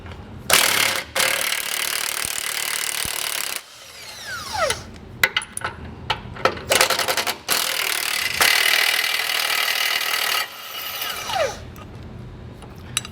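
A hand ratchet works 15 mm tow hook bolts loose on a 2020 Ford F-150 during a base plate install, with bursts of rapid close clicking broken by short pauses and clanks of metal, and no talking.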